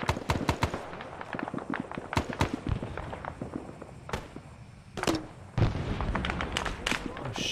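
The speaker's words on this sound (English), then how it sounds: "They're exploding too high in the air." Repeated RPG rockets bursting high in the air during an Arma 3 firefight, a rapid irregular series of sharp booms and cracks, some loud and close, others more distant, with a brief voice partway through.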